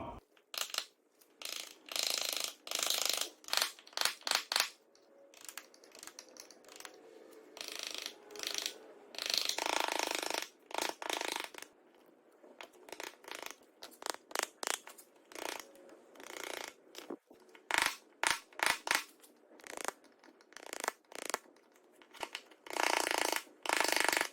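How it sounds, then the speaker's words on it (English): Hand chisel paring out a radius edge in wood on a Festool MFT/3 table, a rapid run of short scraping and clicking cuts in bursts with brief pauses, close and fairly loud, no talking. "now just some quick chisel work to clean out this radius edge and a little bit along the top and bottom"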